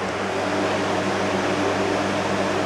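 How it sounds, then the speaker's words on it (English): An electric fan runs in a hot house, giving a steady, even whir with a faint hum that stays constant and fairly close throughout, with no talking. "Sorry about the fan, guys."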